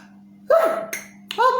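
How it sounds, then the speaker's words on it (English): Two short, sharp vocal bursts about a second apart, the first a breathy rising burst, the second sharper, over a low steady hum; a sneeze with its build-up. "I sneezed"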